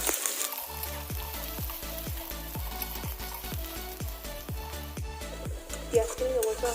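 Sliced onions stir-fried in oil in a kadai give a steady, close frying crackle, with repeated scraping strokes of a spatula against the pan and a low rhythmic hum running beneath throughout.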